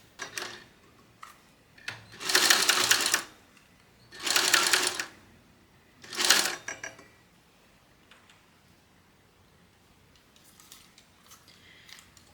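An industrial sewing machine stitches a wristlet strap in three quick whirring bursts, each a second or so long, separated by pauses with faint handling clicks and rustles, and no one speaks.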